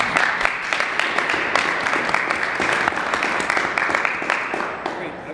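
An audience at a Regina transit forum breaks into a dense, sustained round of clapping for John that fills the room from start to finish, with some voices mixed in.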